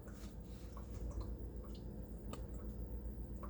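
Rock tumbler slurry, a thick gritty liquid, pours out in a steady wet stream with soft drips and squishy splashes, close and moderately loud, with no talking.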